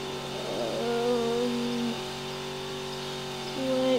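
A car drives in the Roblox video game, with a steady engine hum that rises in pitch and revs a couple of times, moderately loud and without talking.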